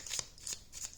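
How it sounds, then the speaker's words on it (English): Tarot cards are shuffled by hand, with three quick riffling bursts in steady rhythm, close and fairly soft, and no voices. "I'm gonna shuffle."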